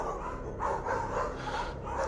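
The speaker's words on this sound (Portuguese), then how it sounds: "os cachorros da rua inteirinho começaram a latir." Several street dogs bark from somewhere outside, a rough, repeated chorus of overlapping barks at moderate distance over steady background noise, with no talking.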